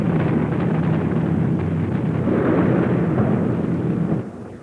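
Anti-aircraft fire and explosions from the Vietnam War era, a dense, loud, continuous roar of blasts and rumbling bursts that fades slightly at the end.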